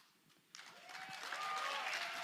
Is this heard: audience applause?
yes